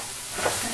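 Meatballs sizzle steadily in a hot pan while a spatula stirs them, a soft continuous frying hiss with a brief scrape near the middle, close and alone.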